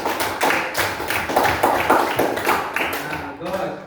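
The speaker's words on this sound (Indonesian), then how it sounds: "Tepuk tangan untuk kelompok 3" A classroom claps for group 3 in a bright, uneven patter of hands, several seconds long, with voices mixed in before it trails off near the end.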